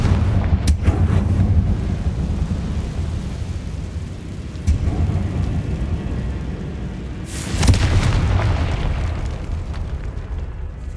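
In the video game Hogwarts Legacy, a Confringo blasting spell explodes in a decaying catacomb with deep booming blasts, one near the start, a sharp crack midway and a bigger burst later, over a low rumbling ambience.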